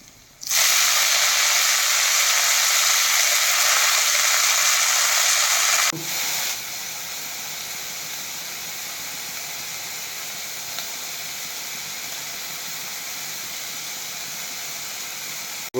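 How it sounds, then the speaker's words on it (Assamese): Onions hit hot oil in a pan with a sudden loud hiss that settles into a steady, close, continuous sizzle lasting well over ten seconds. "তেল গৰমত পিঁয়াজ চিয়াজ ভাজা হ'ল"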